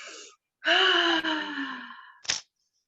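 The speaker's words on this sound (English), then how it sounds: "And take a deep breath." A group in a theatre workshop warm-up takes a deep breath together, with a brief soft inhale, then a long, voiced, sighing exhale and a short breathy puff at the end.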